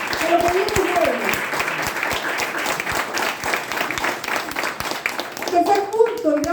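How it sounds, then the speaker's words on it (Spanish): A church congregation claps in a strong, continuous round of applause, with voices calling out over the clapping near the start and again at the end. "den un fuerte aplauso al Señor."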